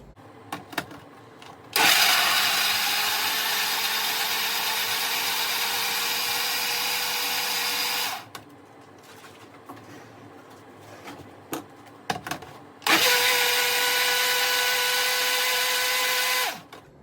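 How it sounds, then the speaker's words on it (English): Kitchen blender running on wet baking ingredients, two loud sustained whirring bursts of about six and four seconds with a quiet pause and small clicks between, no talking. "so we will blend that up and pop it in with the dry ingredients"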